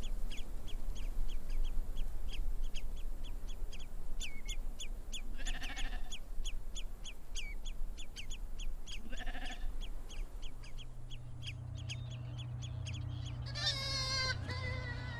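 Sheep bleat repeatedly in green Icelandic meadows, a few clear calls spaced through steady outdoor ambience with constant chirping birds, ending on a louder close bleat.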